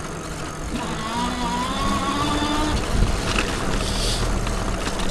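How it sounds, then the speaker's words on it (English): A Happy Run G50 Pro 2000-watt electric bike rides along, its motor giving a steady whine that rises and falls in pitch over constant road and wind rumble close to the rider. "I like that this bike has a little bit of sound to it."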